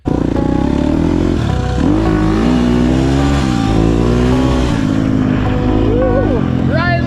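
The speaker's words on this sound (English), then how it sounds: "This HUSQVARNA does not ride as well as the Honda on the street." A Husqvarna 250 FE dirt bike ridden on a street, its engine droning loud and close with rising and falling revs and wind rush, and someone talking over the engine noise.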